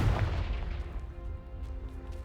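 A Bombarda explosion spell going off in a Harry Potter–style video game, a single heavy boom at the start followed by a rumbling, fading tail.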